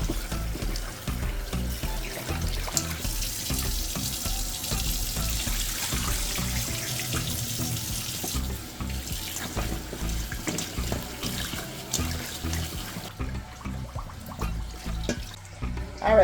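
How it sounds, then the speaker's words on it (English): Tap water runs steadily into a sink as a coconut is washed under it, a continuous close splashing hiss that goes on for the whole stretch and thins out near the end. "here I'm washing my coconut"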